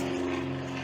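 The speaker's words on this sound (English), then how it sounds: "The plane. The plane. We are close to Syracuse Airport." Propeller airplane flying overhead close to Syracuse Airport, a steady droning engine hum with a strong low tone, heard alone over a campsite at Green Lakes State Park.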